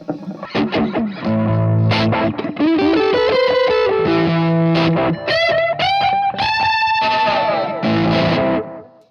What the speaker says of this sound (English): So that's a cheap delay.